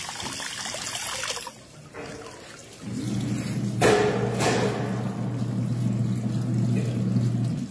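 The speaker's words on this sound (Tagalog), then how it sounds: "Sarap ng agos ng tubig" Water rushes and trickles steadily nearby, a continuous flowing noise with a few splashy bursts and a low hum underneath.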